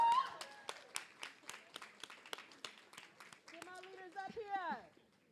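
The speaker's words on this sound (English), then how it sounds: "Keep clapping and showing love until we get everybody up here." Audience at a national childcare convention clapping steadily with sharp, rhythmic claps throughout, while a voice speaks over the applause near the end.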